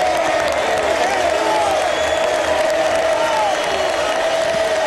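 A packed River Plate stadium crowd applauds and cheers Ariel Ortega's farewell during the 2005 Apertura match against Newell's, a dense, continuous roar of clapping that carries loudly throughout without a break.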